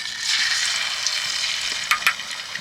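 Semolina and potato snacks fry in hot oil in a wok, giving a steady, close hiss of bubbling oil with a few sharper crackles near the end, and no talking.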